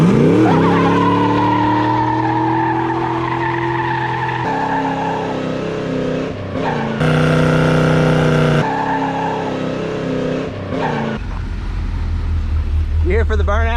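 1929 Ford Roadster doing burnouts, a loud engine revving in changing pitches with squealing tires, close and continuous, ending in a deep low rumble.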